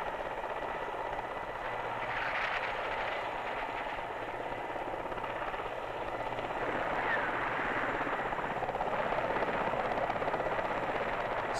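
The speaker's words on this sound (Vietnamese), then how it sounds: "Máy bay Mỹ thực thi di tản" American helicopters flying an evacuation, a steady continuous rotor drone with rising and falling engine tone that holds at a moderate level throughout, with no clear speech over it.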